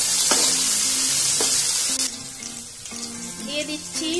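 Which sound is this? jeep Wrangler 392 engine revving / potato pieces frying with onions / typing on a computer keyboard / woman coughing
potato pieces frying with onions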